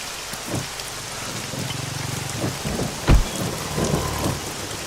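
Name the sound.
heavy rain pouring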